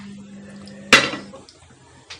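A metal pressure cooker picked up in a home kitchen gives one sharp clank, then a softer knock follows a moment later against a quiet background.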